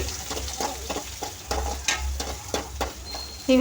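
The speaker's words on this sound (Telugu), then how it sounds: "ఇప్పుడు ఇందులోకి ఆనియన్స్ అయితే వేస్తున్నా చూడండి ఇంకా పచ్చిమిర్చికిను వేసేసానండి" Onions and slit green chillies frying in hot oil, a steady sizzle broken by repeated scraping stirs at a fairly regular rhythm, close and fairly loud with no talking.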